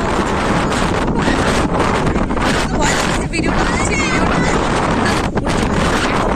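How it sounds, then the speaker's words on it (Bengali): Strong wind roars and buffets against the microphone on a bus journey from Haridwar toward Manali, a loud continuous rushing with gusty surges, while a voice talks over it. "এতটা জোরে মানে হাওয়া দিচ্ছে"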